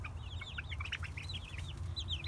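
Young chicks in a small baby coop cluck and chirp in quick, repeated bursts, close and fairly steady throughout, with a low hum of the coop setting underneath.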